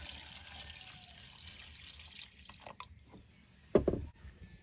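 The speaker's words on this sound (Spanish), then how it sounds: "Y también les voy a poner agua hasta que se cubran." Water is poured from a tap into a cooking pot of freshly washed plums, a steady splashing hiss that tapers off, followed by a brief louder slosh near the end.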